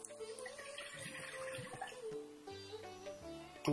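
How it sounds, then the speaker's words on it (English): About 200 ml of water is poured into a pan on a slow flame for an Ayurvedic ginger and curry-leaf remedy, a soft, close trickling splash that runs for several seconds under a faint voice. "Pour 200 ml of water into it."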